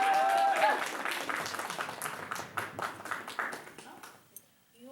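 Audience applause at a baronial court gathering, a dense burst of clapping that thins and fades over a few seconds, with faint voices mixed in.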